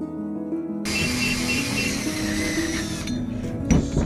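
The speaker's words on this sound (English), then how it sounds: "We want to drill through cleanly and have the hole being through all of the areas." Power drill boring through a humpback whale skeleton bone for a museum exhibit, a steady whirring grind that starts abruptly after a quiet moment and runs continuously, close and fairly loud, with a brief bump near the end.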